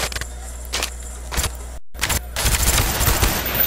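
Single-shot M14 rifle fire in Call of Duty, heard as a few sharp separate cracks spread across the clip, then a denser burst of gunfire and game noise toward the end, with no talking.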